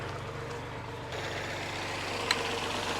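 A tractor engine runs at a steady low idle, rumbling continuously throughout, with a brief high tap near the end.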